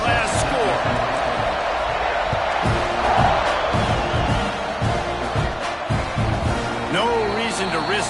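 Stadium crowd buzzing after a score in College Football 26, Texas A&M vs Arizona State, a steady roar of many voices with scattered whoops and thumps under a commentator's talk.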